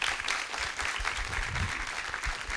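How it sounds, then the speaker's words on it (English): Audience clapping during an onstage conversation at the 29th International Film Festival of Kerala, a moderately distant, even wash of applause sustained throughout with no speech over it. "Can we give them a round of applause?"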